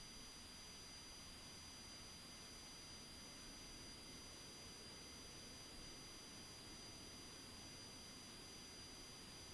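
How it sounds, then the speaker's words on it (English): Cessna Longitude jet engines spinning up in Microsoft Flight Simulator 2020, a steady broadband roar with thin high whining tones that holds constant throughout, no voices. "then I'll go ahead and turn the engines on."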